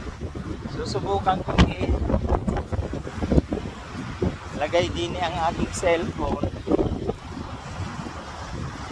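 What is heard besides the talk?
strong wind by the sea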